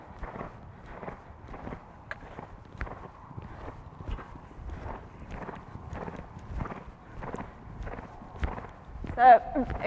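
Horse hooves thudding on sand at a jumping masterclass, a steady run of regular muffled footfalls at moderate distance, with faint background activity and a brief louder burst near the end.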